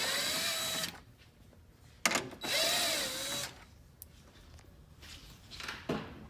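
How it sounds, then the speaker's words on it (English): Power tool with a 10mm socket backing out bumper screws on a third-generation Toyota Tacoma: two short whirring bursts with rising and falling pitch, close up, separated by quieter handling noise. "And then you'll use a 10mm socket to remove the screws."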